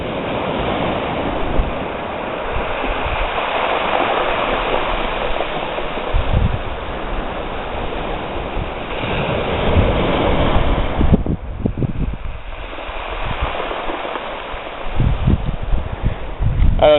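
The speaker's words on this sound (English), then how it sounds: "when the waves crash against the beach with all the stones, when the wave moves back out, the stones all shift" Surf breaking on a beach of large and small stones, with a steady rushing wash, wind buffeting the microphone, and a clattering rattle of shifting pebbles as the water draws back.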